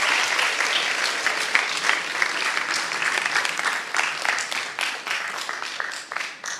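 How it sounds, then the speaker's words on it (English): Audience applause rises at once and holds as a dense, sustained round of clapping from a sizeable crowd, tapering slightly toward the end. "should we give a round of applause for Jordan?"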